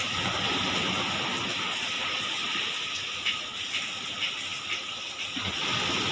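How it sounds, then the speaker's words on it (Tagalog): A strong river current rushing on a rainy morning in Morong, Bataan: a continuous broadband water roar and hiss, fairly faint and far off, with no clear voices over it. "Ang lakas ng agos."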